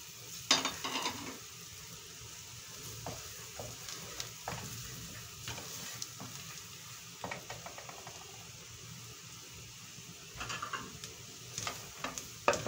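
Mastic, cardamom and spices frying in a pot for a rice dish, a continuous sizzle under repeated spoon scrapes and clinks against the metal, close and moderately loud, with busier stirring bursts near the start and end.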